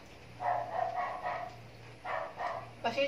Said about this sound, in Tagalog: Pasensya na po sa mga aso ah.